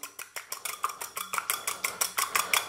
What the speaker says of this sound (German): mit einer Gabel oder mit einem Schneebesen da einfach verquirlen